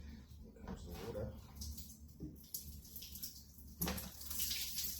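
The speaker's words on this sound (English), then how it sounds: "Here comes the water." Water runs and splashes out of a dismantled pool pump with a wrongly fitted mechanical seal, a faint uneven trickle with brief gushes, under quiet background noise.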